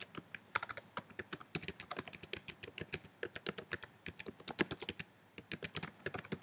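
Rapid keystrokes on a computer keyboard as a website address is typed into a browser's address bar, steady clicking in irregular bursts, close and clear with no talking.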